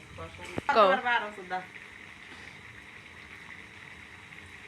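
Chicken meat braising in oil after the oil has separated, giving a low continuous sizzle that runs on after a brief burst of a person talking.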